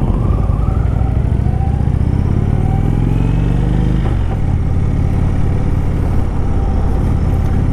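A 2018 Indian Chief Dark Horse motorcycle with its stock exhaust rumbles loudly and continuously while riding, a deep throbbing V-twin note that rises and falls with throttle changes and wind noise throughout.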